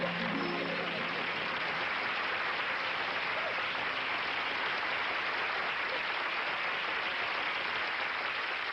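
A large audience applauds, a dense, steady wash of clapping that holds loud and even from start to finish, with no break or voice on top.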